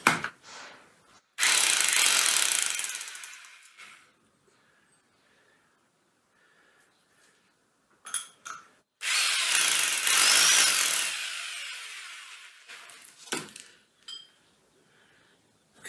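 Power drill boring holes into a shop floor to anchor a universal steel bender, two long loud bursts of drilling separated by quiet pauses, with short clanks and knocks between.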